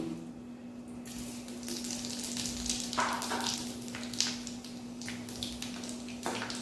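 Dry red chili and panch phoron spices fry in hot oil, a soft, steady sizzle with a few sharper crackles and light stirring clatter, close by and without talk.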